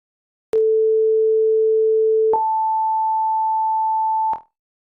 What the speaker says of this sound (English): When you hear these two notes played back to back, your ear recognizes that they sound like the exact same pitch,